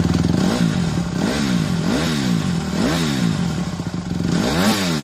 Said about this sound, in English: Revving your engine immediately after starting it might sound cool